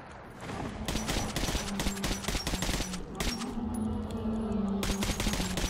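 Gunfire in Metro: Last Light, a string of sharp shots and bursts over a steady low background hum, fairly close and repeated irregularly throughout, with no voices.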